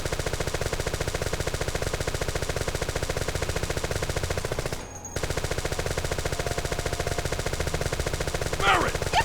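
Rapid, relentless machine-gun fire from Final Fantasy VII, an evenly spaced stream of shots running nearly the whole time, broken by one brief pause midway and a faint extra sound near the end.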